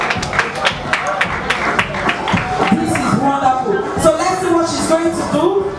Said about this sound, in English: Please, can you clap for her?